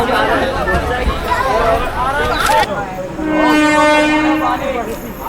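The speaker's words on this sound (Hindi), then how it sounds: "जैसे ही ट्रेन अगले रेलवे स्टेशन में पहुँचती है" A crowded train pulls into a railway station, its rumble and rail noise mixed with a busy crowd's chatter and people talking, plus a sustained tonal sound partway through.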